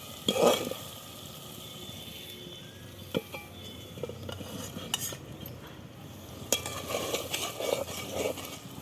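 Potato pieces go into a pan of sizzling tomato masala and get turned: a few metal spoon clinks and scrapes against the pan over a low, steady sizzle, close by and moderately quiet.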